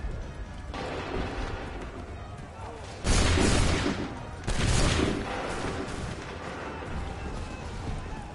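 Musket volleys from Assassin's Creed 3, two loud broadband bursts of massed gunfire close together near the middle, over a constant rumbling battlefield din with shouted commands.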